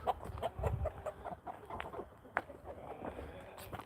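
Chickens and roosters cluck and squawk in a busy, cluttered mix on a farm, with scattered sharp calls over a low rumble and some background voices.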